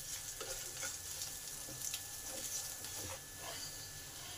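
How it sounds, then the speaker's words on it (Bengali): Ginger, garlic and green chili fry in hot oil with a constant close sizzle, interrupted by light scrapes and stirs of a spatula in the pan. "আদাটা ভালো করে ভেজে নেব।"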